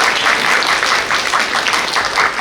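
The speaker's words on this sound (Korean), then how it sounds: "박수 한번 주실까요?" Audience applause at an organisation's internal presentation, a dense steady patter of many hands clapping at close range for the whole stretch, with no talk over it.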